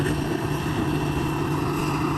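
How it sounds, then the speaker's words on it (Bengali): An airplane waits on the runway before takeoff, its engines holding a steady, droning hum with tonal whine layered over wind noise, heard from a distance and unbroken throughout. "এখন বিমানটি ফ্লাই করার জন্য প্রস্তুত নিতেছে"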